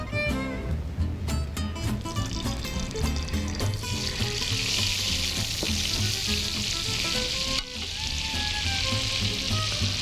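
Kebabs fry in a little butter on a tawa, a steady sizzling hiss that grows brighter partway through, with clinks and light handling noises close by.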